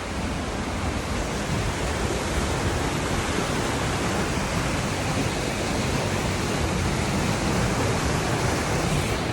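Falling water from a waterfall at Bushkill Falls, Pennsylvania, rushes in a dense, constant roar heard from close under a tree canopy, with no other sounds.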